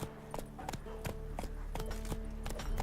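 A horse's hooves clip-clop at a brisk, regular trot in the video game The Witcher 3, sounding as close, sharp thumps roughly every third of a second over a low background rumble.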